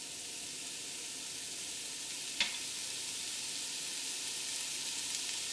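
Turmeric powder sizzling in hot oil: a steady, even frying hiss close by, broken once by a brief clack of a utensil against the pan, with no voices.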